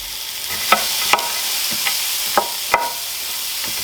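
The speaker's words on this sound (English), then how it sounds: "Gonna have a nice little sizzle to it." Hash browns sizzle steadily in a hot frying pan, a constant crackling hiss with occasional sharp clinks of a utensil scraping and stirring.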